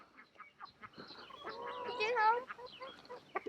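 Chickens cluck on a farm, with ducks nearby: a series of close, quiet clucks and one louder drawn-out squawk midway, with soft voices faintly in the background.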